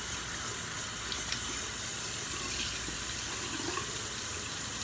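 Tap water runs steadily as a rag is rinsed in a sink, a constant, fairly loud hissing flow up close, with no voices.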